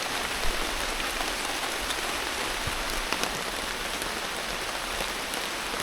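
Heavy rain pours steadily in a Lithuanian forest, a dense continuous hiss of drops on leaves and surfaces, close and even throughout with no voices.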